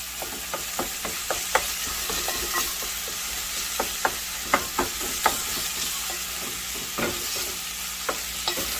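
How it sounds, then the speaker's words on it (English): Onions frying for spaghetti sauce, stirred with a utensil: constant soft sizzle beneath a string of light, irregular scraping taps spread through the whole stretch. "Stir it up."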